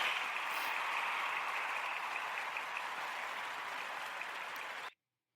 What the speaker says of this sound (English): Claps.